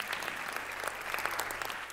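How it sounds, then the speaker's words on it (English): A crowd at an international film award show applauds a film producer, steady clapping from many hands filling the room without a break. "Please give a round of applause for Neil Kopp for joining us here tonight"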